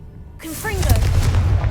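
A Confringo fire spell blasting in Hogwarts Legacy: a sudden roaring burst with crackling fiery whooshes and a sustained low rumble, loud and close, joined by swirling magical tones.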